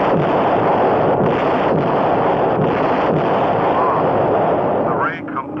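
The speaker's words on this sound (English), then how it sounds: "The ray completely powdered that asteroid." Cartoon ray gun blast powdering an asteroid in a 1962 animated space adventure, a loud, dense, continuous roaring burst that holds steady for about five seconds before cutting off, with no talk over it.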